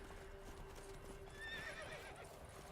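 A horse in The Witcher 3 lets out a clear whinny over quiet hoofbeat clip-clops, the neigh rising briefly in the middle of a short, fairly soft game scene.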